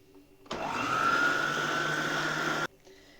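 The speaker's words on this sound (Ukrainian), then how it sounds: "Яйця з тими, з цукром треба збити до білої маси, щоб гарно збилися." An electric mixer whips eggs with sugar for a cake cream, starting abruptly with a steady, loud motor whir that rises slightly in pitch, holds for about two seconds, then cuts off into a quiet kitchen.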